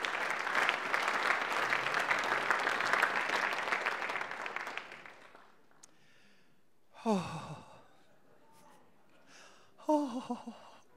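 Audience at the Pan Celtic International Song Contest applauding, a dense, loud wash of clapping for about five seconds that fades out, followed by brief nearby voices and breaths.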